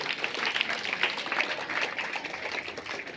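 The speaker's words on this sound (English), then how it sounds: "So I would like you all to clap for yourself that you all have participated." Students at a school science and art exhibition applaud themselves, a dense burst of many hands clapping at once, close and lively, gradually thinning toward the end.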